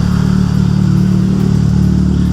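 A Toyota AE86 engine idles steadily close by, its low rumble broken by a slight, uneven stumble from a cold misfire. No one is speaking.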